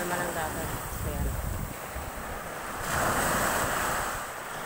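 Calm sea waves wash softly onto a beach, a steady near surf rumble mixed with gusty wind buffeting the microphone, and no clear talking.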